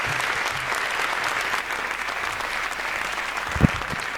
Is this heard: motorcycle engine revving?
no